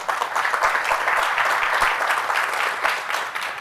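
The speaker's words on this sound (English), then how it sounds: "Let's give them a round of applause." An audience at a business summit applauds, a dense, steady wash of clapping that runs throughout and eases slightly toward the end, with no talk over it.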